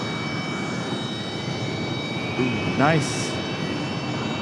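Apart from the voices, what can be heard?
Delta Airbus A319 jet departing Raleigh Durham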